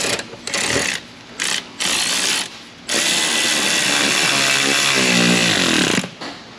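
An electric ratchet tightens a nut on a bolt under a Pontiac, several short whirring bursts followed by one long sustained run, loud and close.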